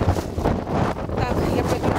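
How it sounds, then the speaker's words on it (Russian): Gusty wind buffets a nearby microphone with low rumbling blasts that rise and fall over a couple of seconds. "какой ветер!"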